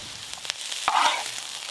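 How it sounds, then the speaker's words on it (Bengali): Chopped vegetables fry in oil in a pan for egg chowmein, with a light sizzle and a few brief stirring scrapes, close and fairly quiet. "এই দেখুন সব সবজিগুলো কিন্তু সুন্দরভাবে একই রকম ভাবে ভাজা হচ্ছে।"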